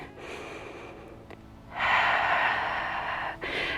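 Deep breathing during a Pilates workout, a steady inhale followed by a louder, sustained exhale, close and breathy with no talking.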